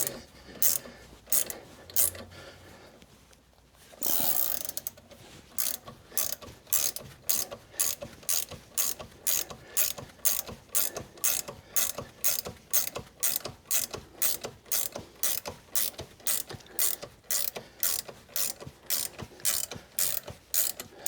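A hand ratchet clicks in rapid repeated strokes while turning the bolt on the harmonic balancer of a Ford FE 390 engine in a 1965 Thunderbird, a close, crisp, rhythmic series of ratcheting bursts after a brief pause.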